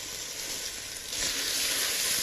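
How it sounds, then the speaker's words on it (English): Seared lamb with a mirepoix of vegetables hisses in a hot pan, a steady close sizzle that swells louder as the vegetables go in. "So now the lamb is nicely seared, we're going to add our mirepoix of vegetables."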